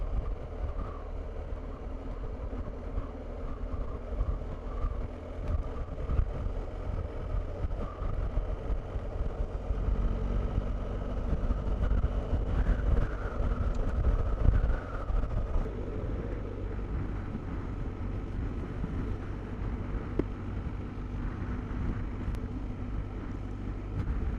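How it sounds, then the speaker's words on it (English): Steady, heavy wind buffeting the microphone while riding a motorcycle, over a low engine rumble, continuous and loud throughout with no voices. "Man, it's so windy."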